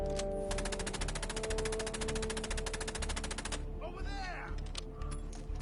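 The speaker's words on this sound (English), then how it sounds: "Machine gun! I don't stand a chance!" Rapid machine gun fire in the stealth game Assassin's Creed Chronicles: Russia, a loud steady stream of evenly spaced shots lasting about three seconds before stopping, followed by mechanical clatter and game sounds.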